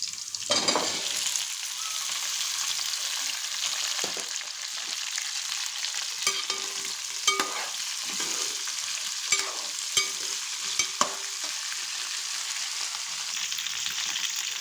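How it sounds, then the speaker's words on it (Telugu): Cut okra frying in a pan, a continuous bright sizzle with scattered spatula scrapes and taps as the pieces are stirred, close and steady with no talking. "ఇప్పుడు కట్ చేసిన బెండకాయలు వేసేసుకోవాలి"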